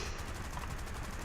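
Aircraft guns fire in War Thunder, a rapid, loud burst of steady automatic shots rattling in quick even rhythm across the short moment.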